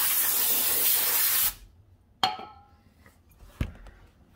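A can of brake cleaner sprays in a loud, steady hiss lasting about a second and a half, then stops sharply, followed by a couple of sharp metallic clinks and knocks in a garage working on a Pro Jet NOS Mustang drag car.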